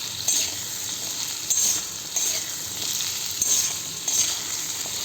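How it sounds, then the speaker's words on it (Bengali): Mixed greens fry in a pan to a constant sizzle, and a spatula stirs them in regular strokes about once a second, each adding a brighter scrape. "মিনিট 5-7 এটাকে এখন ভাজা হোক"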